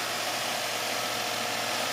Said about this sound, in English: No strange noises. Engine sounds is okay.